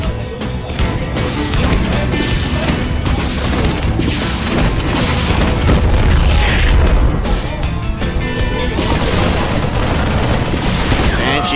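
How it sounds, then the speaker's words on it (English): A StarCraft 2 Terran engineering bay comes under attack in a match, loud continuous rattling gunfire and booming impacts layered with dense game battle noise for the whole stretch. "Engineering bay taking some hits."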